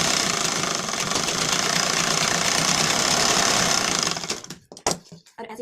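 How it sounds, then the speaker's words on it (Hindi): A sewing machine double stitching a lined blouse runs fast and steady, a dense mechanical whirr that stops after about four seconds, followed by a few short bursts and handling sounds. "अब इसमें हम डबल सिलाई करेंगे"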